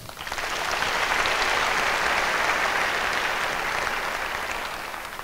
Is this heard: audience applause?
yes